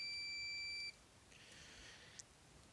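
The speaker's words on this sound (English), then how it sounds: "any time the meter was beeping" A steady multimeter continuity beep holds for just under a second, then cuts off, leaving quiet room noise with a tiny click near the end.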